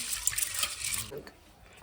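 Brief splashing and swishing of water as sago pearls are rinsed by hand, then the sound drops away into quiet.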